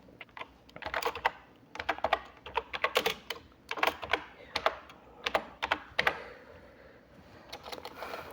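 Steady typing on a computer keyboard while entering text into a Microsoft Excel spreadsheet, quick irregular clusters of close, crisp key clicks with brief pauses between bursts.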